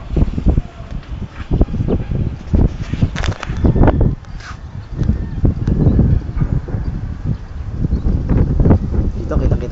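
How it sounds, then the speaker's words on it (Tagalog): Strong wind blows outdoors and buffets the microphone with rough, gusty rumbling throughout, while people talk over it. "Grabe, lakas ng hangin."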